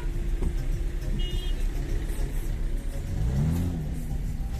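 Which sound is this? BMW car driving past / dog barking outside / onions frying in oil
BMW car driving past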